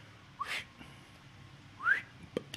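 A person whistling two short rising notes, faint and breathy, separated by a pause, with a soft tap near the end.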